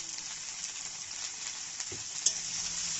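Okra (bhindi) fries with salt and turmeric while being stirred, a faint steady sizzle and soft hiss with a few light scrapes, heard alone.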